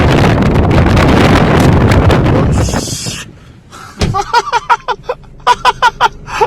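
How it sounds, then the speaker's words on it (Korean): Strong typhoon wind roars in heavy, buffeting gusts for a few seconds, then drops away, followed by a run of sharp, rhythmic knocks and rattles close by. "아 바람"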